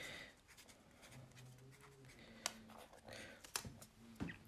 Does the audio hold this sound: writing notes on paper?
yes